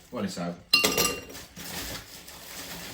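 Ice cubes are dropped into large cocktail glasses, making a burst of sharp, close clinks and clatters followed by a few lighter rattles, with voices faintly in the background.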